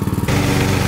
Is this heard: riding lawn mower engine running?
yes